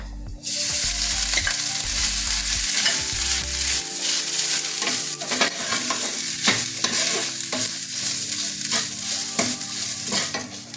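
Grated coconut frying in ghee for a green dal sweet payasam, a steady close sizzle with repeated scraping and stirring of a spoon against the pan throughout.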